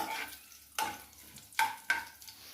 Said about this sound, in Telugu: ఉద్దిబాళ్ళు అంతా ఇట్లా వేపుకోవాలి.